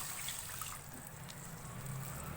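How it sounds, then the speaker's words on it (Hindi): Water poured into a pot of achari dal, a soft, faint trickle and light splashing running steadily on its own at low level. "1 कप पानी ऐड करेंगे"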